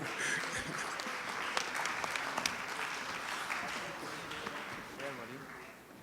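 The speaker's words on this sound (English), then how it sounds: "Give them a round of applause." Audience at a youth forum session applauding steadily for about six seconds, a dense wash of clapping with some cheering voices mixed in, easing off slightly toward the end.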